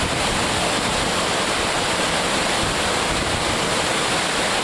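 Floodwater at Nynehead pours over a weir or drop in a massive, continuous roaring rush, close and loud, with a steady dense wash and no voices.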